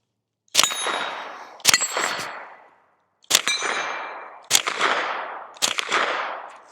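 A Ruger LC Carbine in 10mm fires five sharp shots spaced about a second apart, with a short pause after the second, each crack followed by a rolling echo that fades before the next.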